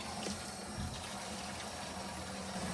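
Water runs steadily into the tank of an 8-liter battery-powered garden sprayer, a soft continuous gushing fill heard close up without talk.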